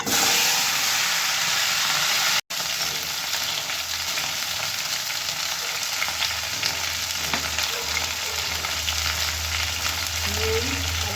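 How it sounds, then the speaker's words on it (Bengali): Washed taro potatoes fry in hot oil in a pan with bay leaves, giving a steady loud sizzle and hiss. A brief break comes early, then the sizzling continues with stirring. "এবার আমি এটাকে খুব ভালো করে ভেজে নেব"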